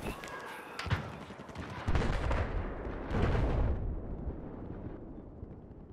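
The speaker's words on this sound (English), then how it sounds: "Ah, bomb dropped." Bomb dropping and exploding in Battlefield 4 multiplayer on PS4: a loud, booming blast with heavy low rumble and debris noise, a second big burst a moment later, then the roar slowly fading out.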